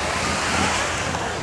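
Evening surf rolling onto Malibu Beach, a steady broadband wash of breaking waves mixed with wind rumble on the microphone, loud and continuous with no distinct breaks.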